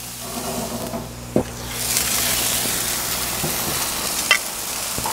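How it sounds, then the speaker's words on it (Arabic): Spicy lemon chicken thighs grill with red onion, giving a steady, fairly close sizzle with a few sharp clicks and a louder scrape or pop partway through, and no voices. "نستمر بالشوي"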